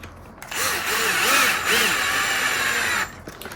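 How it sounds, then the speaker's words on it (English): A power drill drives screws into a Traxxas Slash 2WD RC car during assembly. A loud steady motor whine runs for about two and a half seconds with a slight pitch wobble, and faint voices sit underneath it. "Now the last 2, we'll use a smaller drill."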